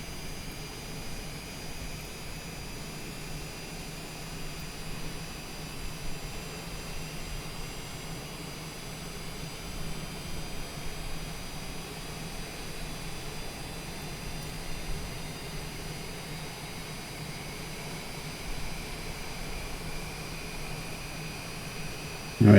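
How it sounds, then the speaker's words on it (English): Airliner jet engines spool up in Microsoft Flight Simulator 2020, a long steady roar with rising high whines and a broad hiss, continuous and fairly loud with no talking. "Our engine's starting up."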